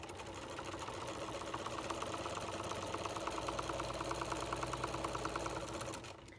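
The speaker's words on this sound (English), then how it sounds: "we're going to start sewing column 3 onto column 2 that's already stitched to 1" A sewing machine stitches quilt columns together, chain pieced, running close and steady with a rapid even needle rhythm for several seconds before slowing to a stop.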